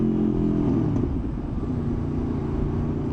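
A motorcycle engine revs hard at full throttle in second gear around 4000 RPM, a loud, steady, close-up drone with a dense rumbling growl that holds throughout.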